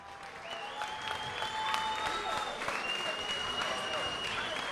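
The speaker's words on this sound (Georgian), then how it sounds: "აპლოდისმენტები დაუთმოთ ასევე ლადოს" A crowd applauds for chess player Lado Ioseliani, sustained clapping over a steady tone, with a voice speaking faintly beneath the applause.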